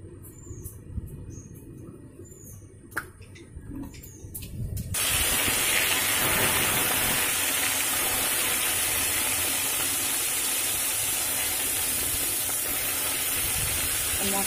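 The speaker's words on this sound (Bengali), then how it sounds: "এবার কড়াইতে তেল গরম করে তাতে কালো জিরে ফোড়ন দিয়ে মাছগুলো ছেড়ে দিতে হবে।" Pieces of rohu fish are dropped into hot oil tempered with nigella seeds, and after a few seconds of quieter kitchen noise a loud, sustained sizzle and hiss takes over and continues close up.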